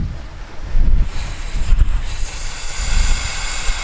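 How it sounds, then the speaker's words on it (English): Waves crashing on a beach, a loud continuous roar of surf mixed with heavy wind buffeting the microphone. "the lovely sound of the waves crashing in the background"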